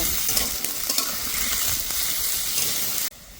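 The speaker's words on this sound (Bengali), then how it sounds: "এবার আলুর সাথে পেঁয়াজগুলো ভালো করে ভেজে নেব।" Chopped potatoes and onions fry together in a pan, a steady close hiss with scraping stir strokes, cutting off abruptly near the end.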